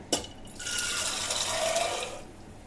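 Water pours from a tap into a pressure cooker over black chickpeas for a curry, a steady close splashing fill lasting about two seconds before tapering off.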